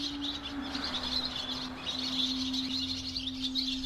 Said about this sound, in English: Dozens of swallows are nestling in the cave's entrance chamber.